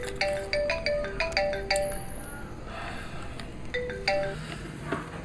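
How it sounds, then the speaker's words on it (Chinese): A mobile phone ringtone plays a repeating melodic chime in bursts, clear and close, with a short pause before the tune starts again. "说曹操曹操到，我姐电话"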